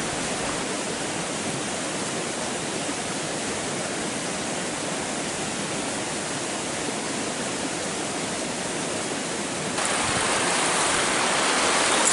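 A river rushes beside a canyon campsite, a dense, even broadband hiss of flowing water that continues unbroken and grows slightly louder near the end.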